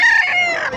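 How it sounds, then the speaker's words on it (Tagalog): A rooster at a chicken market in Bocaue, Bulacan gives a short, loud, close crow, its bright harmonic call filling under a second. "Ito natin mga manok dito."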